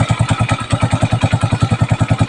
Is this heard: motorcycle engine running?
yes